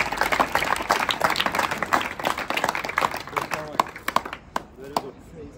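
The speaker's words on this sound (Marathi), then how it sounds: "म्हणून या ओव्हरवेट विद्यार्थ्यांसाठी जोरदार टाळ्या" Students and audience at a career academy clap for the overweight students, a burst of applause mixed with voices that thins out toward the end into scattered claps.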